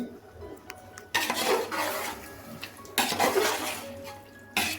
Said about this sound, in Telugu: ఇప్పుడు మనము చికెన్ అంతా యాడ్ చేసిన తర్వాత బాగా మసాలాలోకి కలుపుకోవాలి.